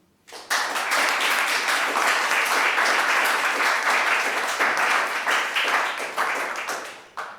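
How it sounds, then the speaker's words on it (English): Sustained applause from a conference audience for a panel, steady dense clapping that starts abruptly and continues at an even level with no talking. "please give a huge hand of applause to our panelists"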